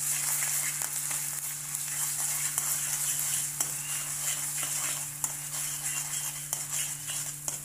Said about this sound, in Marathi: मी अगोदर तेल तापत ठेवलंय ना, तर मी याच्यात थोडीशी कोथिंबीर घालणार आहे आणि हा मसाला टाकून घेणार